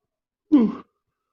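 A single drawn-out yawn from one person, rising then trailing off over about a third of a second, close and moderately loud, with silence around it.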